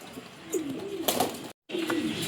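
Pigeons of the western breed, kept as pairs, giving soft low coos in two drawn-out phrases with brief rustling between, close by and fairly quiet, with a short silent gap near the end.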